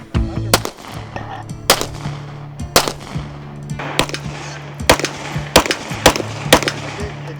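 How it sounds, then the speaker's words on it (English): A .40 caliber gun fires about eight loud, sharp shots at a quick, slightly uneven pace, each crack ringing out close by. "This 40 is the most beautiful gun I think I've ever shot. 40 caliber rounds."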